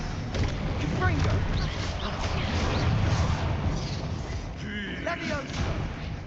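Spell-casting effects in Hogwarts Legacy, a continuous loud barrage of blasts, thuds and crashing impacts, with a voice shouting spell names over them.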